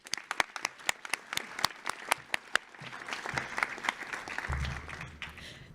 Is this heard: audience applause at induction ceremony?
yes